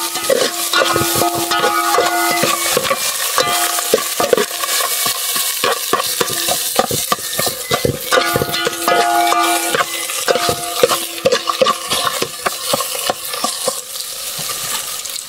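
Onion, ginger and garlic stir-fried in a pan, a steady loud sizzle broken by repeated scraping and clinking of a utensil against the metal, with no one speaking.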